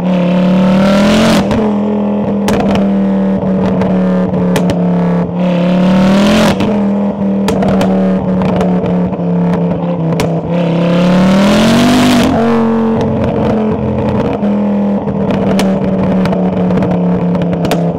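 A turbocharged Ford Focus RS Mk2 engine revs hard and continuously, its pitch climbing and falling in surges, with sharp mechanical crackles over a loud, steady drone.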